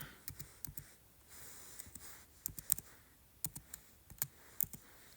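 A computer keyboard being typed on in short, irregular bursts of soft key clicks, faint and close in a quiet room, with no talking.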